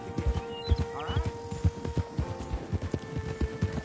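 Horses ridden in the Red Dead Redemption 2 video game give steady, close clip-clop hoofbeats that repeat through the whole stretch, mixed with light jingling tack and a brief animal call, while voices talk over them.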